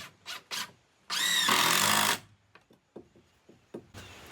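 A power drill countersinks screw holes in one whining burst lasting about a second, close and loud, with scattered knocks and clicks of handling before and after.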